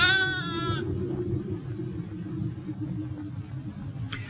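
Sheep bleat in a snowy winter during a severe freeze at lambing time: one clear wavering bleat at the start and a short call near the end, over a steady low outdoor rumble.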